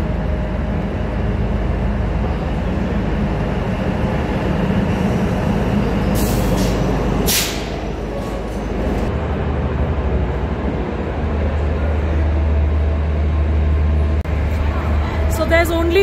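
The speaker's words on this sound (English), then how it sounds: "So the Vistadome train arrives just 10 minutes after this train." A Vistadome train in Kashmir on the Srinagar to Jammu route, in winter, heard as a steady low rumble of rolling rail cars with a couple of brief hissing bursts like air brakes, under ongoing talk.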